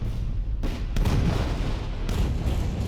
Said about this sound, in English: I think down here I have an artillery